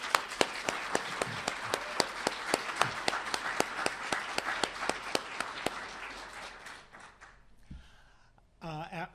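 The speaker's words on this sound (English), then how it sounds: "I'd like to give her a big round of applause." A crowd claps steadily for several seconds, the applause fading out, then a voice starts speaking at the end.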